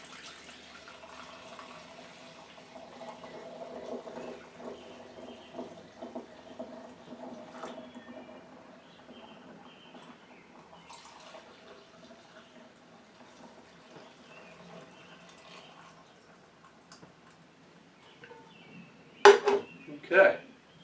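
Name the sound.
pouring watermelon moonshine through a funnel into a mason jar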